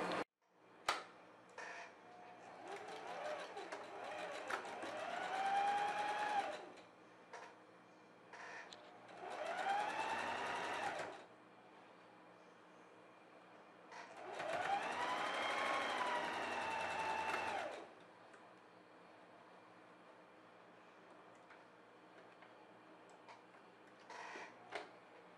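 A sewing machine zigzag-stitching fabric for a baby girl's outfit runs in three bursts of a few seconds each, separated by quiet pauses, at moderate loudness with no talking.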